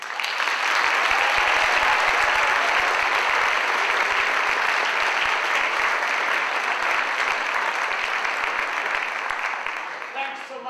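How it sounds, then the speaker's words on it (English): Sustained audience applause at a university teaching award ceremony, a dense, steady roomful of clapping that holds for about ten seconds before tapering off at the end. "I'd like to give a round of applause for Ralph Williams."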